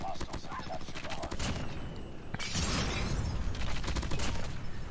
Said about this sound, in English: Oh, I ran into the stupid sentry gun!